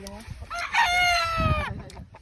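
A rooster crows once nearby, a loud drawn-out cock-a-doodle-doo over faint background chatter.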